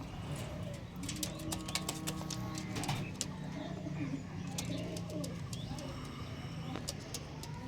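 Pigeons, a male and a female, coo in low, repeated throaty murmurs amid a busy background of chirps and faint traffic, continuing steadily throughout.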